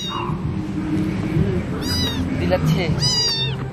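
A pet cat meows a few short times indoors, mixed in with someone speaking.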